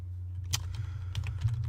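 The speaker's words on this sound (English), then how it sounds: "while I'm typing this" Light typing on a computer keyboard, a few scattered keystrokes tapping close by over a steady low hum, faint and with no talk.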